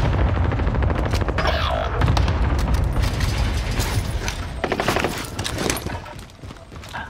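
Bursts of AK74u gunfire in Vanguard Warzone on Rebirth Island ring out loud and close, rapid shots clustering in volleys over a busy game backdrop, with no voices.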